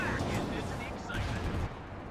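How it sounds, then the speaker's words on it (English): Artillery barrage in Company of Heroes 2, a heavy rumbling wash of distant shell impacts and booms that fills the scene under a commentator's voice. "We see a barrage flying here as the Shermans in the center manage to eliminate"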